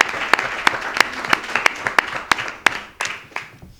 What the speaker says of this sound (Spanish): este primer aplauso es para ti